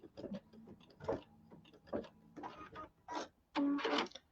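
An embroidery machine stitches appliqué for a quilt block, giving a rapid mechanical ticking and whirring in uneven bursts, quiet and close, with a louder buzzing run near the end.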